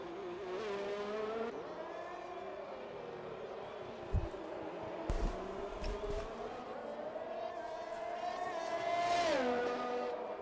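F1 race cars at the Mexico circuit in an Xbox racing game, engines whining steadily with rising and falling pitch through gear changes, a continuous close roar with brief low thumps midway.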